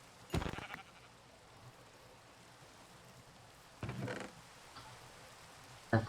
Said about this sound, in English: Here's a sheep.